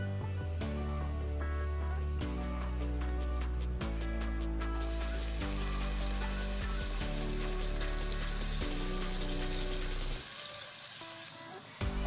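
Chopped onions go into a little under half a cup of hot oil for chicken macaroni. Partway through, a steady frying sizzle rises and holds, close and moderately loud, over tonal background music.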